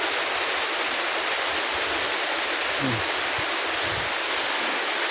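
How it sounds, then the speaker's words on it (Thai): Heavy rain on a hill climb in Thailand, with water pouring off rocks like a waterfall; a dense, constant roaring hiss fills everything, with a brief faint voice underneath near the middle. "ฝนตกหนักกว่าทุกทุกครั้งที่นั่นน่ะ เพราะมันมีมันมีน้ำที่ มันไหลมาจากหินด้วย เลยเหมือนน้ำตกเลยฮะ"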